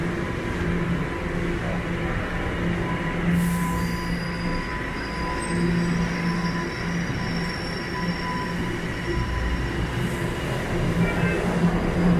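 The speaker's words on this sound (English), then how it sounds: "So now we're changing trains here at Bloor-Yonge Station." A Toronto subway train at Bloor-Yonge Station rumbles continuously with squealing wheels and high metallic screeches along the rails, loud and enveloping from close by, with faint voices in the background.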